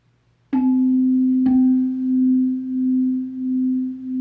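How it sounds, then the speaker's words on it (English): Two slightly mistuned tuning forks ring together after two sharp strikes, producing a steady pure tone that swells and fades in slow, regular beats, loud and close, with no voices. "hear that high, low, high, low, high, low? Those are called beats."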